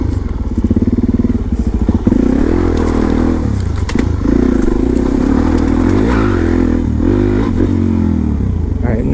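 Supermoto motorcycle engine revving hard and continuously, loud and close, with throttle blips and clattering thumps as it pops up a curb and climbs a stair set.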